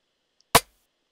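A single short, sharp drum hit, pitched up, made with Addictive Drums as a snare layer; one bright transient that decays quickly to silence.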